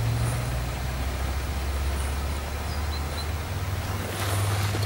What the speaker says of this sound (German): Hier fährt ständig ringsrum irgendein Militärfahrzeug, irgendein LKW